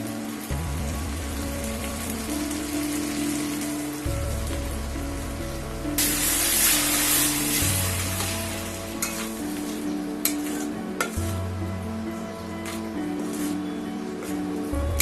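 Coconut and poppy seed paste for a malai egg gravy sizzles steadily in a wok, a continuous close crackle with a louder burst of frying partway through, with no talk.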